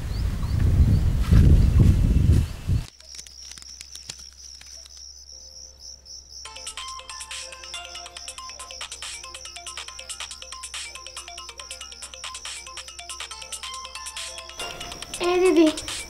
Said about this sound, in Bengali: এই দিদি, তোর বন্ধু ফোন করেছে।